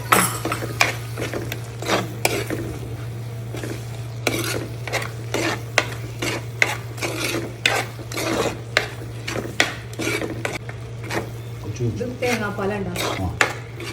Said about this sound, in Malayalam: പഞ്ചസാര എന്നിട്ട് ഒന്ന് ഇളക്കാം